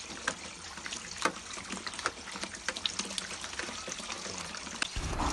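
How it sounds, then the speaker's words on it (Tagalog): Vinegar poured over live eels in a container, a steady splashing pour with scattered wet knocks and slaps close by, continuous for several seconds with no talking. "after nating buhusan ng suka"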